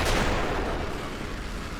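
Gunfire from the Armored Core 5 video game: a sharp initial blast followed by a dense, rumbling burst that slowly fades, moderately quiet and without voices.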